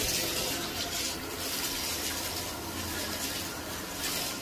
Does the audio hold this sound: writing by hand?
no